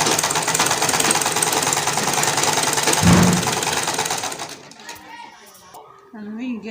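Sewing machine stitching fabric for a long flared gown, a loud rapid mechanical whirr running steadily for several seconds before stopping, with faint voice and handling noise afterward.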